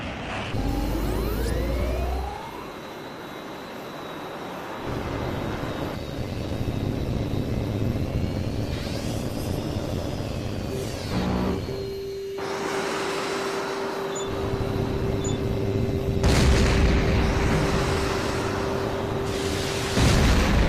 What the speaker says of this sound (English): you will engage all three of your flight mates simultaneously while dodging incoming missile fire